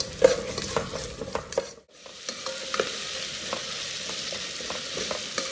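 Onions for Sri Lankan chicken biryani fry and brown in a pan, giving a steady close sizzle with stirring scrapes at first, then a brief break before the sizzle resumes alone.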